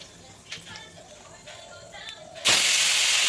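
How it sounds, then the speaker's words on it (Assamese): Five-spice seeds hit hot oil in a wok for a leafy greens and fish dish, bursting into a loud, sudden hiss that holds steady to the end after a quieter stretch with light kitchen sounds. "জুইত কেৰাহীটো বহাই তেল অলপ দিলোঁ। দি পেলাই আহিছেনে পাঁচফোৰণ দিছোঁ"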